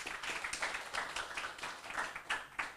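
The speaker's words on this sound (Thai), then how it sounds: "ปรบมือให้คุณนุ้ยนะครับ" Applause from a seminar audience for a participant at a talk on food supplements, a faint, dense patter of many hands clapping at an even pace from a distance with no voices over it.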